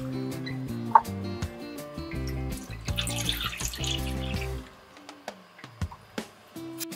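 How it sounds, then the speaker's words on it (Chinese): Rice wine and soy sauce poured into a pot for braised pork with bamboo shoots, a steady liquid pour under background music that stops partway, followed by a few small knocks. "加入米酒和酱油"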